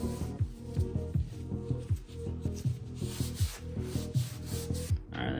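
A rag is rubbed back and forth over a brand new Yamaha R1M motorcycle axle in steady, close, rhythmic strokes, with a soft scrubbing swish on each pass and no talk.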